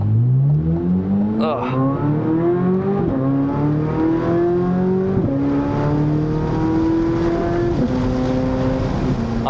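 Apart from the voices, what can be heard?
Chevrolet C8 Corvette Z06 engine revving and burbling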